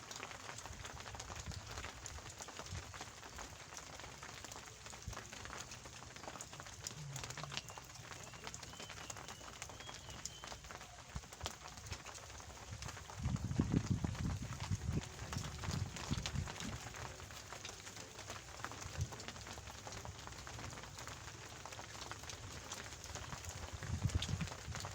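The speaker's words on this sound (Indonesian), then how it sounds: "hujan pemirsa." Rain falls outdoors during a fishing trip at the Saguling reservoir, making a steady broadband hiss throughout with a few low rumbling swells.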